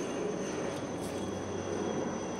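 Airplane flying overhead, a steady broadband roar with a low hum that holds level throughout, heard on its own at moderate volume.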